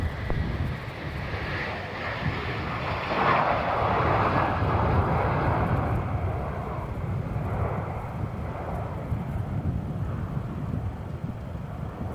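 A jet airliner landing on runway 16 at Melbourne Airport, a broad steady engine roar with wind noise that swells midway and then fades slightly, with no talk.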